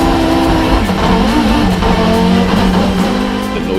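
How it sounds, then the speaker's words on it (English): An Audi Quattro race car revs hard nearby at Pikes Peak in 2017, its pitch wavering and climbing, then settles into a loud sustained roar as the car launches. "he revs the car up and launches the car"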